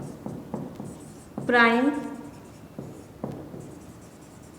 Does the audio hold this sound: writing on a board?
yes